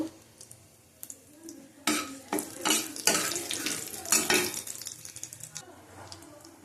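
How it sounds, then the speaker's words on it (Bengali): Bay leaves frying in hot oil in a pan give a close, steady sizzle, broken by bursts of stirring and utensils scraping against the metal. "তেজপাতা দেব ভালো করে ভেজে নেব"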